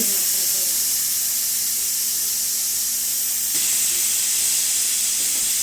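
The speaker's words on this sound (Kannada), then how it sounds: "So 2 whistle ಕೂಗಿಸ್ಕೋಬೇಕಾಗಿರೋದು. 2 ವಿಷಲ್ ಆಯಿತು." A pressure cooker cooking chicken biryani vents steam in a loud, steady, close hiss that fills the whole stretch, with a faint tone underneath and a slight surge partway through.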